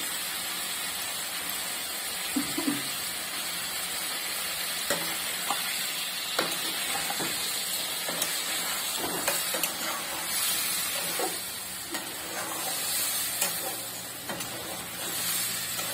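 Fish heads stirred in a hot pan, a steady broadband sizzle with scattered scraping and clicking stir strokes throughout, fairly close and continuous with no talk.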